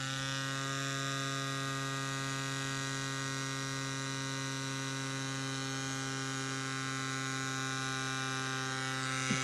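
A CYCPLUS AS2 Pro Max mini electric pump inflating a bicycle tire toward 60 psi gives a steady, loud motor hum with a constant high whine, running unbroken and close throughout.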